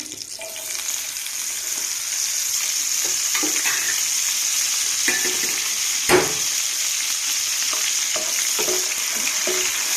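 Washed dried prawns fry in hot oil, a loud, steady close sizzle with scattered scrapes and taps of stirring and one sharp knock partway through.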